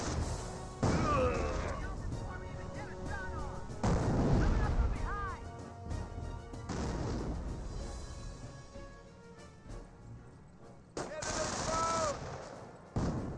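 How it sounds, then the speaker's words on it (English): A landmine detonating in Company of Heroes 1 amid a clash involving a Greyhound armored car and Panzer Grenadiers: heavy blasts punctuate a steady clatter of machine-gun and rifle fire, with distant booms between closer bursts. "I did hear a detonation there"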